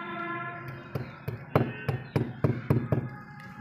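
Metal hammer strikes drive 5 mm clips to fasten mesh over a plaster crack in a wall, about eight sharp, close taps in an uneven rhythm over a low background hum.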